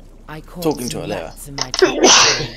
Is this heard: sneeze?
yes